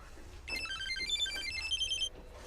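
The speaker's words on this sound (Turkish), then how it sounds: "Arıyor." A telephone rings with a bright, warbling electronic ringtone that plays for about a second and a half at moderate loudness, in a quiet room with no talking.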